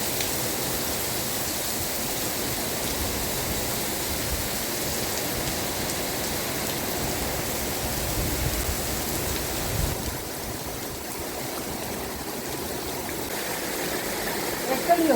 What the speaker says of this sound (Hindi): आज फिर धुआंधार बारिश होने लग रही है